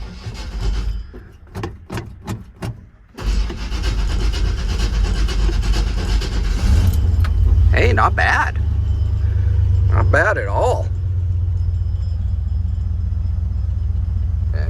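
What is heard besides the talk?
cold start of a 1959 Dodge truck engine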